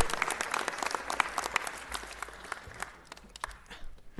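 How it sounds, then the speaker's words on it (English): A city council meeting audience gives Vera Ford another round of applause, scattered, fairly faint clapping from a room of people that thins out toward the end. "Let's give Vera Ford another round of applause"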